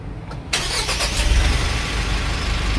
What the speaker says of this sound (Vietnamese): mình sẽ nổ máy cho các bạn coi thử nha